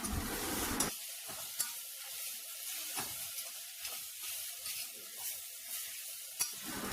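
Tomato and onions sautéing in a pan give a low, steady sizzle, with occasional scraping stir clicks and a brighter burst at the very start.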